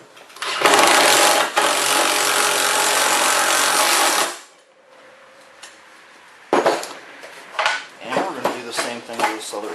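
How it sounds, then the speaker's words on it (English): A power driver whines loudly for about four seconds, sinking a sheet metal screw into a garage door tube, then stops; after a quiet pause, clattering handling noises and brief speech follow. "we're going to run our sheet metal screw down into the tube."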